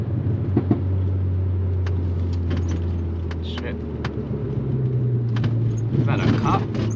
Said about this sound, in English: Turbo speaking right now